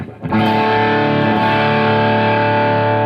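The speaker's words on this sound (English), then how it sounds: "this next one is more of a distortion sound" Electric guitar through a thick rhythm distortion effect, a single sustained chord struck sharply and ringing loud and dense, held without decay.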